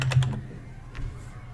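A few quick keystrokes on a computer keyboard enter a password, clustered tightly at first, then one or two lighter taps after a short pause, close and quiet.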